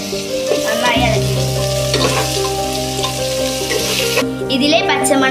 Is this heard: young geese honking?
no